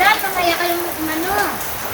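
Steady rain falls as a dense, even hiss throughout, with a voice speaking or humming over it.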